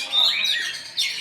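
Songbirds chirp and tweet in quick high bursts at a bird-singing contest in Meulaboh, a couple of close bright calls with a short pause between them.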